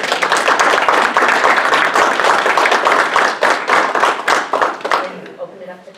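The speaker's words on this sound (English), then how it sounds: "Well, let's give them a round of applause." An audience at a community meeting gives a round of applause: dense, loud, continuous clapping from many hands that thins out and fades near the end.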